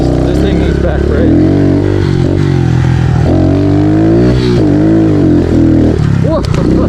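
A Kawasaki KLX 110 big bore dirt bike revs loud and close as it comes out of a turn toward a large tabletop jump, the engine pitch rising and dropping with throttle changes.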